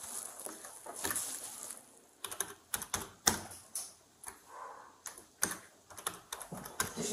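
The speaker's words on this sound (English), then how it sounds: "Yo, you gotta stop typing." Rapid keyboard typing comes in irregular bursts of sharp clicks, close and fairly quiet, with brief pauses between flurries and no one speaking.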